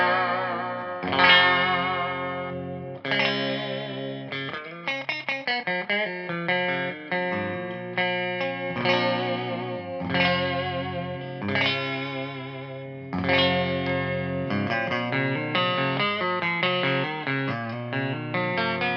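Gretsch Brian Setzer Hot Rod electric guitar played on a clean setting, a lively run of picked chords and single notes with bright ringing sustain, close and prominent with no talking.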